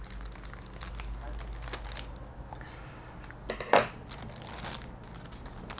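Plastic packaging on a 1/20 scale Plamax Taniguchi driver figure model kit being cut open, with soft crinkling and rustling and one sharp snip or tear near the middle, close and fairly quiet.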